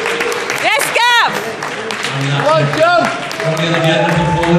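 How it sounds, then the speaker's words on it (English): Audience applause at the NABBA British bodybuilding finals, a steady wash of clapping under loud whooping cheers and shouting voices from the crowd. "A massive round of applause"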